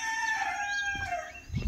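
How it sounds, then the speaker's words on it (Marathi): A rooster crows once at dawn in a quiet village, a drawn-out harmonic call at moderate distance, fading into faint low rustling. "कोंबड्याचा आवाज"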